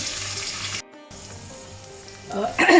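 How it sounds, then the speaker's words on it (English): Onions frying in hot spiced oil for a mutton daal gosht, a steady broadband sizzle with a brief gap partway, then a louder hiss and splatter at the end. "So now I'm going to add the onions, and I'm going to fry it till they are nice golden brown."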